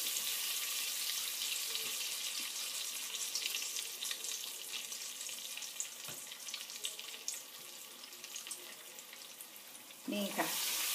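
Egg-and-flour-battered food fries steadily in hot oil in a pan, a continuous crackling sizzle close by, with a brief clatter of utensils near the end.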